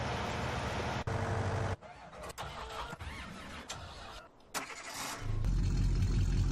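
A V8 Ford Super Duty pickup engine in a video game cranks over and catches, then settles into a loud, steady low rumble close by after a few seconds of mixed background noise.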